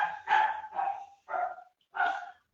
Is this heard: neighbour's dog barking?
yes